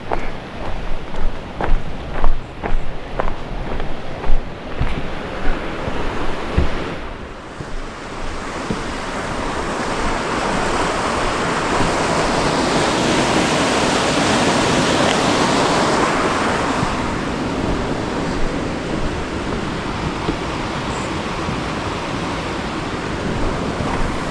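Steady rushing water of a creek at a bridge crossing roars broadly and continuously, with rough buffeting wind noise at the start; no voices.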